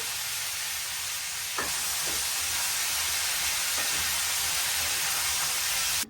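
Pumpkin pieces fry with turmeric and salt in a pan in a home kitchen in Paris, giving an even, moderately loud hiss of sizzling oil with a few faint taps of a spatula and no speech.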